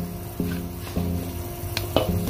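Potato pieces dropped into a cooking pot for pork nilaga, giving several distinct plops and thuds over a continuous sizzling, stirring background, with no one talking.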